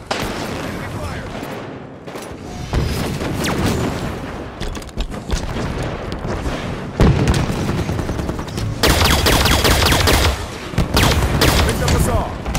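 Dense gunfire and explosions from Halo 5 multiplayer, with rapid automatic bursts, heavy booms and rocket blasts layered continuously at close range, and a voice speaking occasionally underneath.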